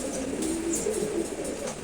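A pair of red checkered pigeons coo softly in a low, repeated throaty murmur, close but faint, against a steady background hiss.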